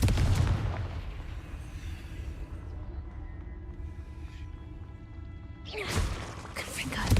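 A Confringo blast spell fires in a video game, starting with a loud booming impact that decays into a low rumble before a second sharp burst near the end.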